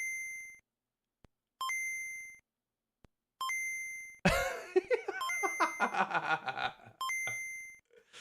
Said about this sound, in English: TikTok's just going to keep doing a bleep noise